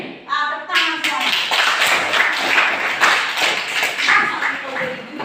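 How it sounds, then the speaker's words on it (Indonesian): A class in a Christian religious education lesson claps hands together, a burst of loud, close, rapid clapping that starts abruptly after a brief voice and keeps a fairly steady rhythm, with voices mixed in. "Tepuk tangan semua."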